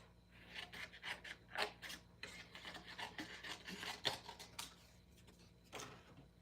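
Paper edge trimmed during a stamping craft session, a quiet series of short rasping cuts and rubbing strokes in an irregular rhythm, close to the mic.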